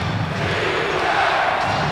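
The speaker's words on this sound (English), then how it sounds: "And the crowd is back in it with 7:40 remaining." Crowd noise swells through a basketball arena during an NBA game between the Chicago Bulls and Cleveland Cavaliers in 1990, a steady broad roar of cheering that stays loud throughout.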